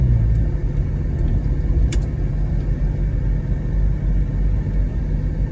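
A 1968 Ford Falcon's engine rumbles steadily while the car drives over a speed bump, a continuous low, close drone with no voices.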